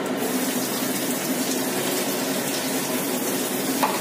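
Potatoes hit hot oil for chicken chowmein, giving a steady, fairly quiet hiss of frying that runs unbroken and without speech.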